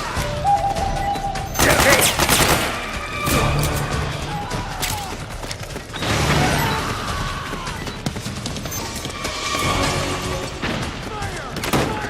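Rapid bursts of automatic gunfire and booming impacts fill a Metal Gear Solid 4 battle on PlayStation 3, dense and loud with crashes throughout, while game voices shout orders.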